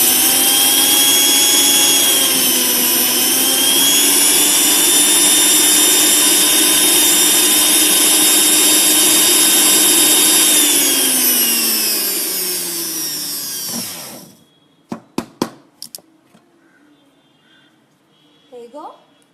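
A dry grinder jar whirring loudly and steadily as it grinds cashews into fine powder, motor pitch dipping slightly before it winds down, followed by a few sharp knocks and rattles of the jar.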